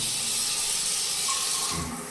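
Water runs steadily from a tap in a villa bathroom beside a bidet and shower, a continuous close broadband hiss with no talk over it.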